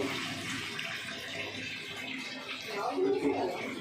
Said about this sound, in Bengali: আমি আর একটু জল দিয়ে দেবো একটু পোস্ত বাটা দেবো জল দিচ্ছি একটু